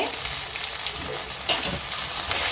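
Ginger-garlic paste frying in a spoonful of oil for mushroom masala, a dense continuous sizzle that stays close and steady, with light stirring rustles throughout.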